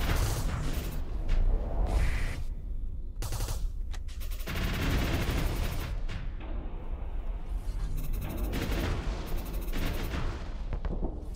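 Ship guns in the space combat game Starsector (Nexerelin mod) firing in dense, rapid volleys that go on almost without a break, loud and close, with no voices.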